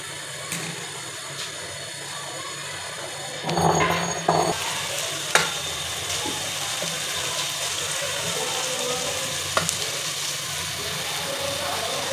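Onions frying in a karahi pan give off a steady, fairly loud sizzle, broken by a brief clatter of stirring and a couple of sharp knocks, with no talk.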